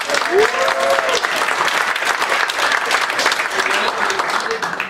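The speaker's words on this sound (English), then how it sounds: "let's hear a round of applause for Team Turnip for what?" An audience at an improv show applauds loudly for a team, dense clapping and cheering sustained throughout, with voices calling out over it.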